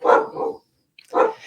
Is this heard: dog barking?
yes